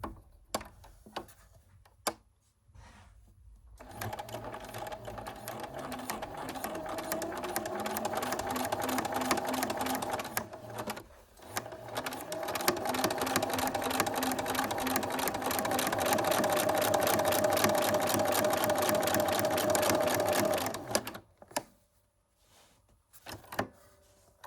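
Sewing machine stitching shirring on a fabric strip for a summer dress, thread tension loose and stitch length long; two steady runs of fast, even mechanical whirring, the first about six seconds and the second about ten, with short pauses and a few clicks between.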